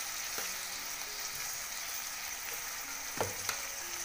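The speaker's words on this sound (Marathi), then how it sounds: "आणि असं व्यवस्थित जरा परतून घ्यायचं" Cluster beans and potato with turmeric and salt stir-frying in a pan, a soft continuous sizzle with a few light clinks of the spoon against the pan near the end.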